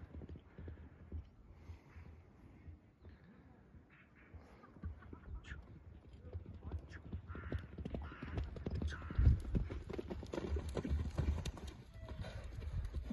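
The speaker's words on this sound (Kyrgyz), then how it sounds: "Абдан күлүк жылкы экен." Hooves of a Budyonny stallion clip-clop steadily and close while it gallops, the beats growing louder and denser toward the end over a low rumble of movement.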